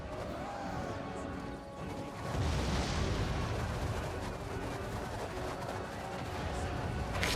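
Massed slingers firing nonstop on quick reload in a Total War: Rome 2 battle, a dense rolling clatter of impacts and whacks with heavier crashes, fairly faint and continuous throughout.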